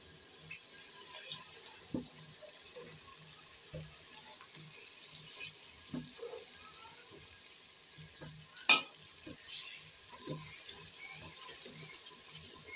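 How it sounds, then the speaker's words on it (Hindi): Boiled eggs fried in spiced masala in a pan for a potato egg curry, a faint, steady low sizzle with soft spoon scrapes and occasional clinks close by. "अब हम इसमें अंडे भून लेंगे।"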